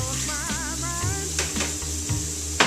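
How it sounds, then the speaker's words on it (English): Wild mushrooms sautéing in a pan for pizza, a steady soft sizzle with a few light utensil scrapes and taps against the pan, and a sharper clink at the end. "I'm going to saute these for about 10 minutes and then take them off the heat."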